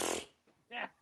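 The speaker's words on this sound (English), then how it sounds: "Can you do that fart noise again?" A fart noise erupts loudly at the start, then after a short lull a second, more tonal blat sounds, with no talking around it, in a football talk-show setting.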